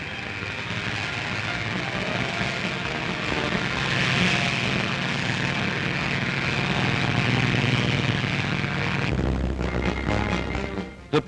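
Engines of Navy PBY patrol bombers on a mass long-distance flight, a loud steady propeller-aircraft drone and hum that holds for about nine seconds before the tone abruptly changes near the end.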